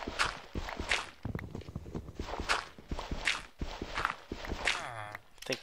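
Footsteps on blocks in Minecraft, a steady run of soft, fairly quiet steps in an even rhythm, heard alone.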